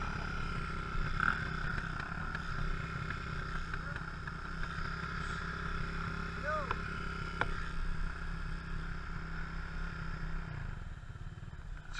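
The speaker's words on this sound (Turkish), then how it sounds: "Safi egzoz." A vehicle's exhaust rumbles outdoors in the Murat Dağı mountain countryside. The engine drones in a low, steady tone with a faint rattle and cuts off near the end. Voices sound in the background.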